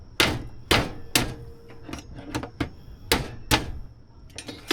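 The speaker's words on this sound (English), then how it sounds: "I'm going to crack all this mud crab" Several sharp, loud cracks as mud crab shells are broken open outdoors with a stick on a beach, coming in irregular single and paired hits with quiet gaps between them.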